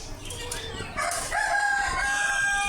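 Fayoumi chickens clucking in a coop, then a rooster crows loudly and close by with a long drawn-out call over soft background clucks.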